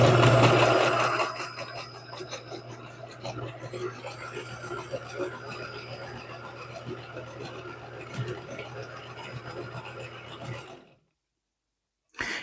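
Sewing machine stitching quilt pieces, a steady motor hum with rapid needle clatter running for about ten seconds, with a louder start and a quieter stretch of soft speech before it stops.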